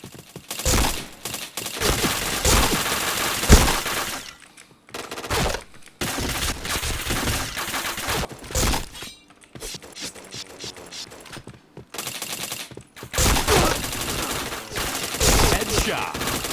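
Gunfire in a shooter video game, rapid bursts of automatic shots that come in long dense clusters, broken by short pauses, loud and close, with no talking.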